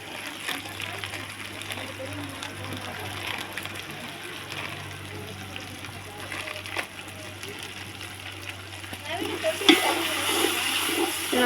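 Spices with coriander, mint and chilli powder being stirred in a frying pan before tomato goes in, a soft continuous sizzle with scraping and splattery stirring strokes under a voice talking.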